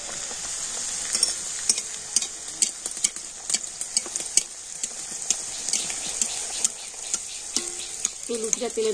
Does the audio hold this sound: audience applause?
no